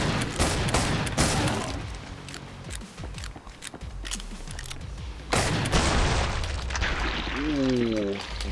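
Rapid gunfire in the video game Killing Floor 2, dense bursts of shots layered with game effects and someone talking over parts of the action.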